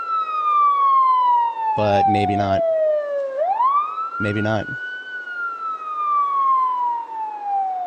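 An ambulance siren in Project Zomboid wails in long, smooth up-and-down sweeps. It is loud and close, and a person talks briefly over it twice.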